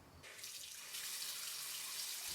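Water runs steadily from a faucet in an off-grid yurt kitchen, a constant hissing stream that grows a little louder partway through and carries on without interruption.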